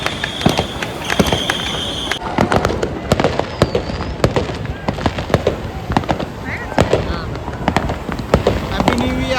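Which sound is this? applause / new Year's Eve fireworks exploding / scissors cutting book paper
new Year's Eve fireworks exploding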